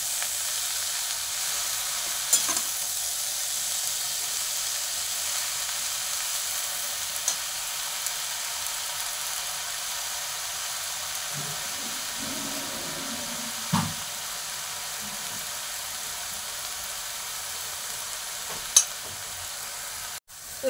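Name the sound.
stir-frying kalai greens in a pan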